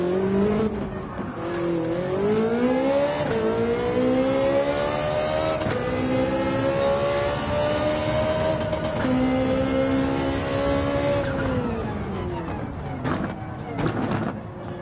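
A race car engine in Gran Turismo 7 at Spa revs loud and close, pitch climbing and dipping through gear changes and engine braking, with brief tire noise and a voice talking over it.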